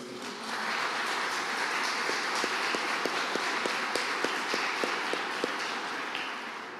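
A church congregation applauding, a dense sustained roar of clapping filling the space, with a few sharp rhythmic knocks cutting through the middle and no speech on top.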